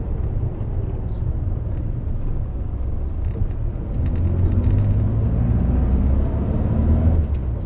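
A Morris Minor nicknamed George drives a short trip on the road, its engine a steady low rumble from inside the cabin, rising a little in loudness midway.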